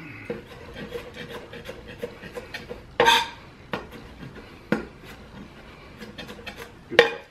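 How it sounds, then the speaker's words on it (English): Rough chopping with an ENOKING Serbian chef knife cleaver on a cutting board: a series of irregular, close knocks and scrapes, with two sharper, louder chops standing out. "Again, we're just doing a rough chop."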